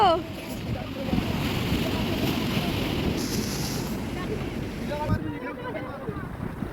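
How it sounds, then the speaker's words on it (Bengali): Sea waves roll and break on the beach at New Digha, Udaypur, a broad rushing surge with wind buffeting the microphone and voices of people at the water's edge over it. "কি দারুণ ঢেউ দিচ্ছে দেখো।"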